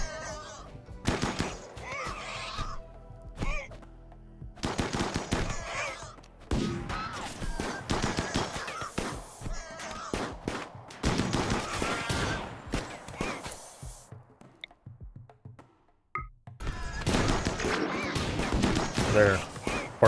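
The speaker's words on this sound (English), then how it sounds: "That's a shotgun." Shotgun blasts and other scattered gunfire in a video game, coming in loud irregular bursts with short gaps, mixed with chaotic combat noise and a voice talking over it.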